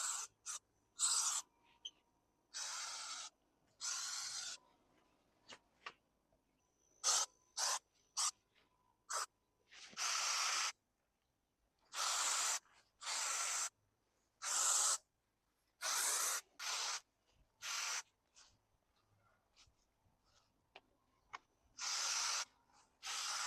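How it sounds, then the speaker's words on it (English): Close aerosol spraying of mosquito repellent around doors and windows in short and longer hissing bursts, stopping and starting irregularly, with quiet pauses between. "You can spray it in your yard, but I like to spray it around my doors and windows."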